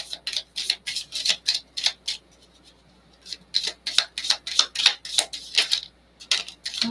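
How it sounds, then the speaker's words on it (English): Bursts of crisp riffling and slapping, card-like and rhythmic, in two runs of quick flicks separated by a short pause, close and fairly soft. "One more shuffle."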